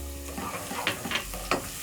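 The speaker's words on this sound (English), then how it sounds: "I'm going to cook for about a minute, just until the onion is soft" Onion softening in a pot, for a one-pot beef and rice dish, sizzles steadily up close while three quick stirring scrapes cut through the hiss.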